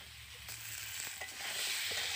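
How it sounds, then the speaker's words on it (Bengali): Pointed gourd (potol) frying in hot oil in a home kitchen, a soft continuous sizzle with a few light spatula taps, quiet and close. "তো প্রথমে আমি পটলগুলোকে ভেজে নিচ্ছি।"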